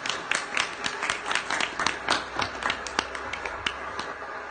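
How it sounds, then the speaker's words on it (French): An audience at a nursing school event in Morlaix gives a round of applause: scattered, sharp hand claps from a modest crowd, fairly close and steady, with no talking over it. "je pense qu'on peut l'applaudir encore une fois"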